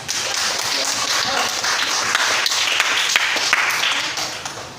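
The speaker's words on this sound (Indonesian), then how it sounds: "Untuk kelompok 4 kita berikan aplaus atas jawabannya" Classroom applause for a student group after their answer: a steady, dense wash of many hands clapping together, fairly loud and sustained for the whole stretch with no talk over it.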